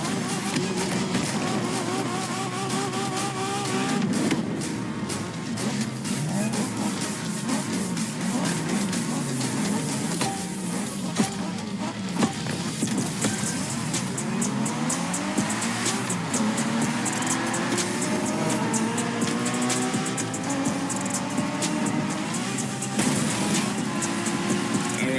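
Racing car engines in The Crew Motorfest rev and shift through a Japanese street race, a continuous loud drone rising and falling in pitch with several cars, with voices heard now and then over the engines.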